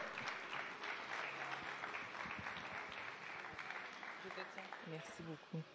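A gala audience gives a faint, distant round of applause that rolls on steadily for several seconds, while a voice speaks over it near the end.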